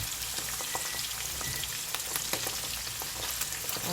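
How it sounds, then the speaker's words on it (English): Garlic fries in a pan for honey glazed salmon, giving a close, steady crackling sizzle with dense little pops throughout and no talking. "first, we're going to add our garlic in."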